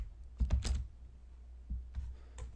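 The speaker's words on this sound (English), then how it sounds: "so I can just go over here and type" Keystrokes on a computer keyboard while entering a location in field mapping software, a few quiet clustered taps followed by sparse single clicks, close and faint with no talking.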